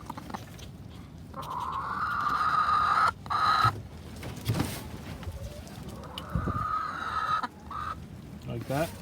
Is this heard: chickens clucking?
yes